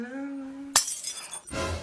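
A glass object shatters with a sudden sharp crash, followed by a brief tinkle of falling shards and scattered clatter, loud and close in an indoor room.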